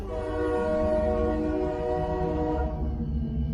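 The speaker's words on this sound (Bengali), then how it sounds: "হঠাৎ শুনি হুইসেলের শব্দ হচ্ছে" A train whistle sounds as a through train approaches a station at night, one long sustained harmonic blast with rumbling rail noise beneath, tapering off near the end.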